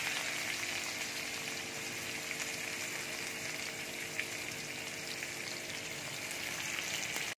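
Chopped onion fries in hot oil for egg chips, giving a steady, even sizzle and crackle that holds at the same level throughout with no talking.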